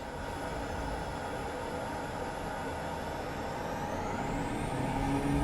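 A steady, droning turboprop engine roar of a Pilatus in a flight simulator game, with a high turbo whine that rises slightly in pitch toward the end, continuous and fairly loud.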